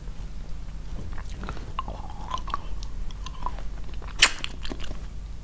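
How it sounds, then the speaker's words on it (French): Hard, dry childhood cakes are bitten and crunched close to the mouth, with a few crisp cracks and one sharp snap near the end over steady chewing, and no talking. "Comment on va croquer ça?"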